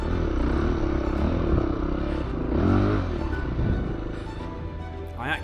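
A two-wheel-drive dirt bike with a front-wheel-drive system labours through a rutted, muddy section of a stage, its engine droning steadily and surging in revs, with clattering and scraping close by.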